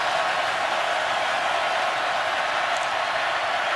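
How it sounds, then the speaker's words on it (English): Roaring stadium crowd at the Florida versus LSU college football game, a steady dense wall of cheering noise with no break, with no talk audible above it. "and the crowd going crazy."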